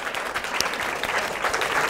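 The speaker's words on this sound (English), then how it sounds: "Oh, you deserve a better round of applause than that." Applause from a business-talk audience, many hands clapping in a dense steady wash that holds evenly at a fairly loud level from start to end, with no voices on top.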